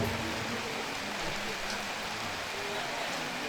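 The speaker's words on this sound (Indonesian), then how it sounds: "malam ini sekalipun kondisi gerimis," Steady light rain patters continuously at an outdoor evening wedding gathering in Indonesia, a dense even hiss with faint voices beneath.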